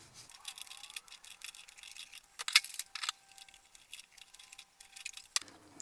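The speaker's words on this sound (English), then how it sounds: "I'm going to try and cut these all level with the top of the tray" Radish microgreens of the Rambo variety are snipped level with the top of a growing tray, giving a run of close, crisp cutting and rustling bursts with one sharper crunch midway.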